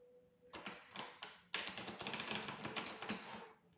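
Tarot cards are shuffled close by in quick, dense riffling flutters, a short burst followed by a longer run of papery clicks that fades out.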